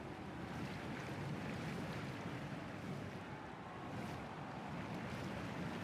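Massive churning vortex of seawater in Pillars of Eternity 2: Deadfire, a steady loud broadband rush of water and surf with no pauses, close and enveloping throughout.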